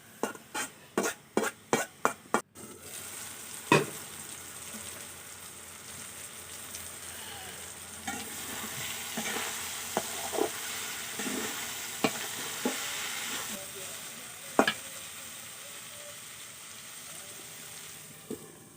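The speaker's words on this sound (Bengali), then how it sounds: "একটু পরপর আমি ঢাকনা তুলে নেড়ে চেড়ে দিব।" A spoon knocks sharply on a pan about eight times, then cowpeas and potatoes fry with a soft sizzle while scattered scraping taps from stirring come through. Nobody talks.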